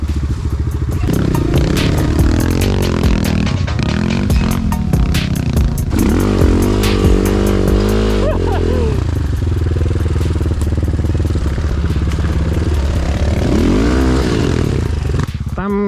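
A motorcycle with a tuned 174 engine with a big-bore kit rides off over rough ground, loud and close, its engine rasping and rising and falling in pitch through gear changes, with constant clatter and rattling throughout.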